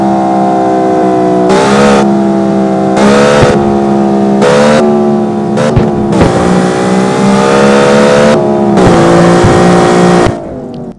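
A Corvette C6 in the CarX Street racing game revs hard through repeated gear changes, its loud engine tone climbing and dropping in rising sweeps before cutting off abruptly near the end.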